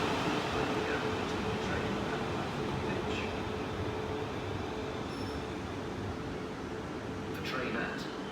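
A South Western Railway train stands idling at platform 2 at Farnborough Main, with a steady low rumble and hum throughout, faint clanks, and a distant hiss near the end.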